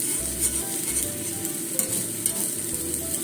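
Flour-free okonomiyaki sizzles in a hot pan with a steady, close frying hiss and soft crackle, and no one speaks.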